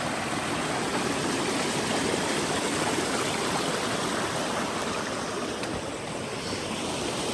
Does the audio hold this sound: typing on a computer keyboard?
no